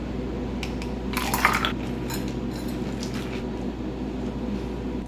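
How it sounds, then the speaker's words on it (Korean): Ice cubes dropped one after another into a 20 oz cup, giving a cluster of bright clinks and rattles in the second second and scattered lighter taps afterward, over a steady low background hum, with no talking. "이번에는 마지막 20온수의 얼음을 넣어보도록 하겠습니다"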